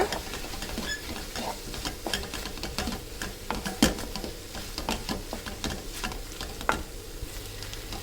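Masala powder sautéed in a pan for village-style dry fish curry, giving a steady close sizzle with frequent scraping stirs and small ticks, with no talking.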